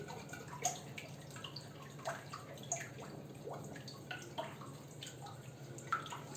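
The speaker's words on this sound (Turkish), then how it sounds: "Her zamanki gibi yumurtayı kırı kırmaz el yıkamaya koşuyoruz." Hands being washed under a running kitchen tap while cooking, a faint steady trickle of water with small irregular splashes and drips, quiet and close, no talking.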